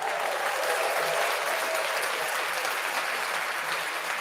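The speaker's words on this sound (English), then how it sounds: "Let's do some clapping." An audience claps steadily and continuously in a fairly dense burst of applause, moderately loud throughout with no talk over it.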